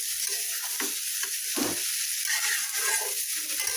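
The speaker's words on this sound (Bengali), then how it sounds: "এখন ভালো করে ভাজা নিব" Vegetables fry in a pan with turmeric and salt, a steady close sizzle broken by scraping stirs.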